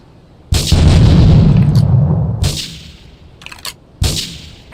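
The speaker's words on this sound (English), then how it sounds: "Investigate reported gunfire and explosions." Gunfire and explosions in the video game GTA 3: a loud close blast rumbles and fades, then a quick burst of sharp pops and another hard crack, with no talking over it.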